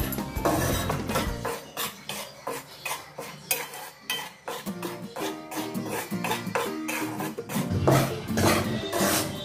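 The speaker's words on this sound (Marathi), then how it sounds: "पुन्हा 1 कढई घेतलेली आहे मी, त्यामध्ये आपण तांदळाचं पीठ भाजून घेणार आहोत।" Rice flour being roasted in a kadhai, with a utensil steadily scraping and stirring against the metal pan in continuous close, busy clinks and rubs, no talking.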